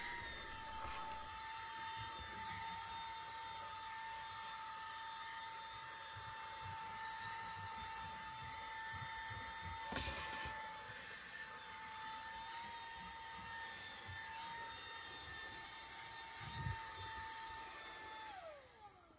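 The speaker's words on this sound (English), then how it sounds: "Now I'm going to switch to the crevice tool where I can target where I'm going to vacuum." A steady, loud motor whine with a high tonal hum runs continuously: a close Moosoo K23 cordless vacuum cleaner drone, fitted with a crevice tool, with slight shifts in pitch and a brief surge near the end.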